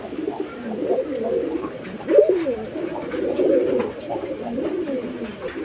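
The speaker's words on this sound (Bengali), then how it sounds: "নরের ডাক দেখছেন মাদি দেওয়ার সাথে সাথেই ও কিন্তু একদম ভরপুর ডাকের মধ্যে চলে গেছে" A male Lahori pigeon coos in full voice, repeating low throaty rolling calls in close succession, near and fairly loud over faint background noise.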